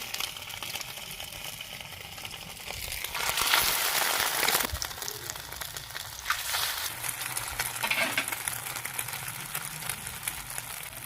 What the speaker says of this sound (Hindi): हम इस तरह सारी टिक्कियाँ जो है वो अंडे में डिप कर करके डाल के हम फ्राई कर लेंगे अच्छे से